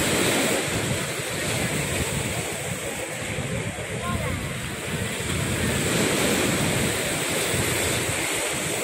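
Sea waves wash steadily at a fishing harbour (Mituo fishing harbour), a continuous broadband surf with wind noise, with muffled voices faintly underneath.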